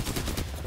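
A rapid rattle of automatic gunfire from an Apex Legends match, dense and continuous over a brief moment, fairly loud and close.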